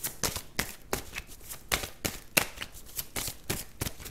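Oracle cards from an angels-of-love deck being shuffled and drawn, quick crisp riffling flicks in an irregular rhythm, close and soft, with no one talking.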